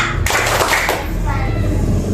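Elementary schoolchildren in a classroom clap out a rhythmic chant clap: a sudden group of sharp hand claps close by, mixed with children's and a teacher's voices.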